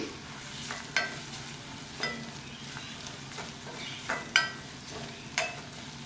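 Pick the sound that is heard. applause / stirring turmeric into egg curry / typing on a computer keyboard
stirring turmeric into egg curry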